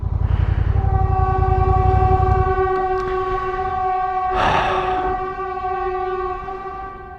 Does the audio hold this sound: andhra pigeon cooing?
no